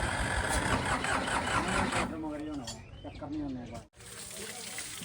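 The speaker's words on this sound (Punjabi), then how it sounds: "ਹਾਲੈਂਡ ਟਰੈਕਟਰ ਸਟਾਰਟ ਕਰਨ ਦੇ ਆ" A New Holland tractor engine cranks and rumbles to life, its chugging noise continuing as a person talks over it.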